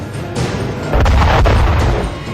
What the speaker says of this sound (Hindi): अब टारगेट पर लॉन्चर दागते इन चीनी सैनिकों को देखिए जो एक एक कर हर लक्ष्य मटिया मेट कर रहे हैं।